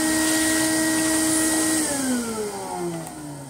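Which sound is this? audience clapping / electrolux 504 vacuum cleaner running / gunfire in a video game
electrolux 504 vacuum cleaner running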